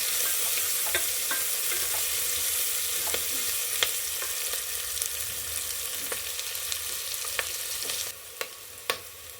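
Onions frying in a pan until golden brown give off a steady, even sizzle, broken by scattered sharp clicks and taps of stirring. There is no talking, and the hiss drops slightly near the end.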